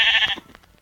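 A short, loud sheep bleat from a video game creature, one wavering call up close that trails off quickly.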